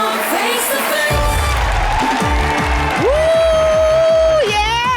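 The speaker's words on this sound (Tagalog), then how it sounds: "Mas malakas sa palakpakan at sigawan!" A studio audience applauding and cheering at a Filipino television talk show, loud and continuous, with whoops, shouts and a musical stinger over the crowd noise.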